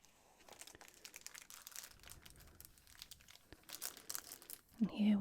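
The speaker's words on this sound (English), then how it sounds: "So let's open our cards." Greeting cards are opened with soft, close crinkles and rustles of paper, quiet and intermittent, then a short louder burst at the end.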